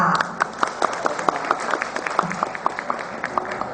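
An audience claps at a ceremony in Nakhon Ratchasima as the chairperson is welcomed to the head table. The applause is moderately loud, with distinct separate hand claps in an uneven patter, without speech.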